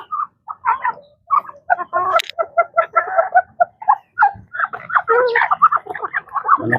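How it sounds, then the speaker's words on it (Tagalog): Bantam chickens in a backyard cluck in quick, choppy bursts at close range, with a short crow and a person talking faintly among them. "Manok na bantam."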